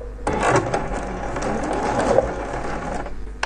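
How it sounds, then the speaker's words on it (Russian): A sewing machine with a standard zipper foot stitches a zipper into a dress at a stitch length of 3.2, running steadily for about three seconds between brief pauses, close and fairly loud with no talking. "И сейчас по линии будем с вами шить."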